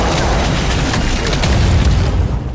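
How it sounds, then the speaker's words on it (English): An energy-based area attack like a spirit bomb from the Lost Ark video game, a dense roaring blast with layered crackling bursts sustained loudly throughout before trailing off slightly at the end. "harness the energy in order to use higher ranged AoE attacks, an example of that being something that is effectively a spirit bomb"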